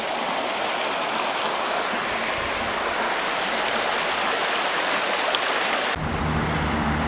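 Oak Creek in Oak Creek Canyon, Sedona, rushes in a steady, full broadband roar of flowing river water close by, continuous and unbroken, with a brief shift in tone near the end.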